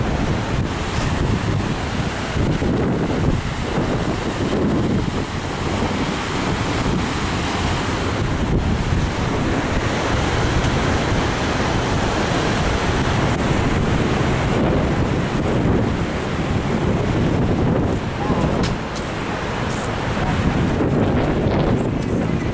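Ocean surf rolls in steadily at Malibu beach, loud and continuous, with heavy wind buffeting the microphone throughout and no voices.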